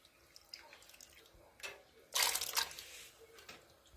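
Gram dhall lentils tipped into a pot holding one liter of water ahead of boiling make a short clattering splash that lasts about a second, with light drips and clinks before it and after it, heard close up.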